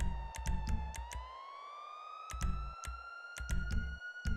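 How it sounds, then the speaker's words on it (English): A creepy siren in GTA Online wails in a slow rising tone, sustained and fairly faint, broken up by repeated sharp knocks or gunshot-like thumps. "Why is there like some creepy ass siren going on?"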